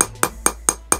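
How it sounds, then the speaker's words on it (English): A hammer sets a metal fastener into a DIY denim corset with five sharp, evenly spaced strikes about a quarter second apart. The blows are close and loud, with no talk between them. "you take a hammer and you hammer"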